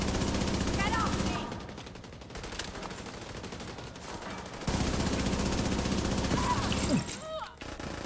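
Gunfire in The Division video game, rapid automatic bursts rattling loudly in long stretches with a short lull between, mixed with game background noise.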